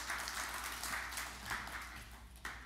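Congregation applause at a church service, a dense wash of clapping that stays fairly faint and distant, continuing steadily with no clear break.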